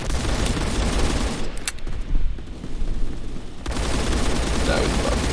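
Revolver shots ring out in a first-person shooter game with extreme recoil, loud sharp gunfire bursts with a brief quieter lull in the middle before the racket resumes.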